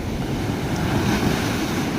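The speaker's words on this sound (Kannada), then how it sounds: "ಕಡಲು ಬಹಳ ರಫ್ ಉಂಟು" Loud, continuous crashing surf of a rough Arabian Sea rolls and roars nearby on the shore, mixed with gusty wind buffeting the microphone.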